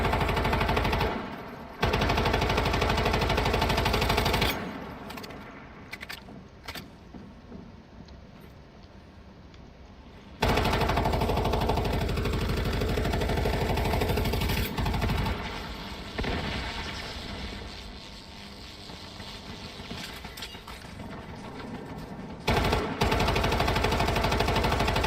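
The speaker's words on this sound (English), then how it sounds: "Watch out for the turret up top." Sustained bursts of turret machine gun fire in the survival game Once Human, loud and dense, with short pauses between long stretches of rapid shots.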